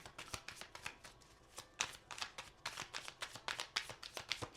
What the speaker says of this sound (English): Let's shuffle this one more time.